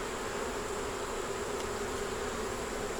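Honeybees in a hive with a laying queen, eggs, brood and stores drone in a steady, dense buzz that holds unbroken and fairly loud throughout, with no voices.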